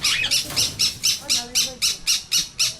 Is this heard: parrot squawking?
yes